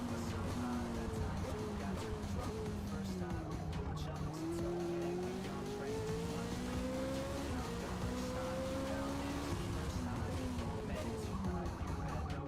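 Racing car engine in Forza Motorsport during an endurance race, its pitch rising and falling steadily through gear changes as it accelerates and brakes, with faint tire squeal, loud and continuous with no talk.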